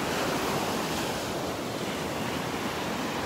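Ocean waves wash onto a beach beside Naples Pier on a rainy morning in a continuous broadband roar of surf. The wash stays steady and close, with some wind noise on the microphone and no voices.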